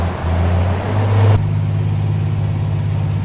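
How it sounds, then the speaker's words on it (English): Peterbilt 389 truck engine brake in a tunnel in American Truck Simulator: a loud, steady low rumbling drone that drops in pitch partway through and carries on continuously to the end. "Got to hear that engine brake heading down the tunnel"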